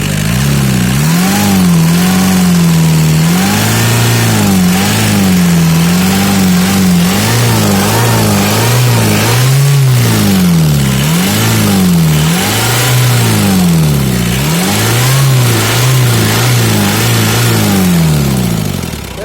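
A car engine in a turbocharged vehicle, demonstrated in a maintenance class, revs repeatedly as the accelerator is pressed and released, loud and close, rising and falling in steady surges for the whole stretch with no talking.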